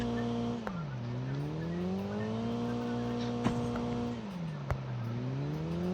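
A vehicle engine in the Call of Duty Mobile game drones steadily, its pitch dipping and rising as it shifts and accelerates, with a few sharp clicks and pops scattered over the run.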